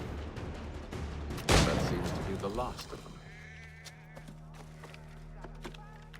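Gunfire in Assassin's Creed III, a sharp loud shot burst early on followed by ringing decay and quieter ambient game sounds, with a voice speaking.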